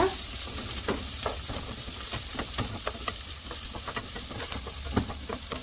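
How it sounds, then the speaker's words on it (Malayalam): Curry leaves and green chillies sauté in hot oil for a white bitter gourd pickle, a steady bright sizzle under repeated rhythmic scrapes of a stirring spoon, close up with no speech. "പിന്നെ കറിവേപ്പില ഇനി നന്നായിട്ട് ഇളക്കി കൊടുക്കുക"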